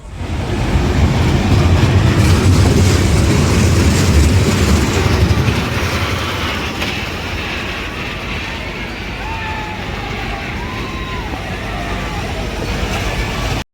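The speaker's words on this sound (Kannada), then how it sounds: "ಟ್ರೈನಲ್ಲಿ ಹೋಗ್ತಿದ್ದೀವಿ ಈಗ" Steady rumbling train ride with a continuous low roar, louder and busier over the first few seconds and then settling into an even, constant ride noise with faint squeals.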